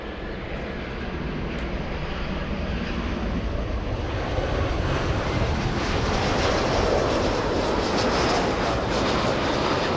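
An airliner landing at LAX airport, its engines roaring in a steady, broad wash that swells slightly louder through the second half, heard alone with no talk.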